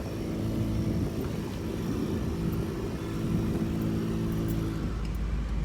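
Honda Civic being driven at low speed to park, a steady, fairly quiet engine hum and road rumble that stays even throughout.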